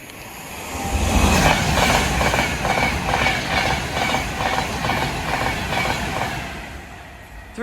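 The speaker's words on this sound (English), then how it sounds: "I like the sound as it passes over that rail joint" A train on a British main line toward London Euston clatters loudly and steadily past, its wheels striking a rail joint in a regular rhythmic clickety-clack over a broad rumble, with no voices.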